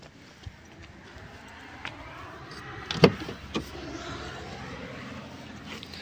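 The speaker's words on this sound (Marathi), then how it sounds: "ह्या गाडीला चारी पॉवर विंडो आहेत" A Tata Manza's electric power window hums as it moves, with a sharp click partway through and a few soft knocks inside the quiet car.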